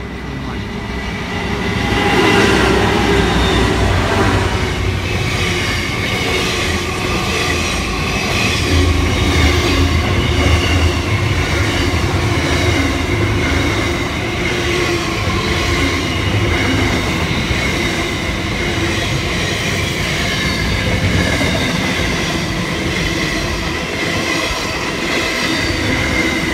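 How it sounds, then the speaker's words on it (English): A long freight train led by locomotive MZ1440 rolls past close by Point Clare platform 1 near Sydney, a loud continuous rumble of wheels and cars with steady rhythmic clatter throughout. "MZ1440 leading a freight train soon to break down, passing Point Clair platform 1"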